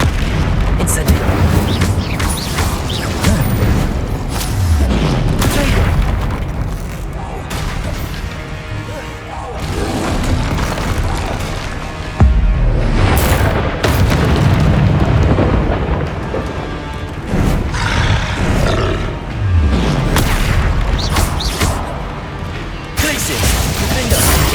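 Explosive Confringo and Incendio spell blasts in the Hogwarts Legacy video game, heavy booms and crashes repeating throughout at high volume, layered over constant combat noise with a voice talking intermittently.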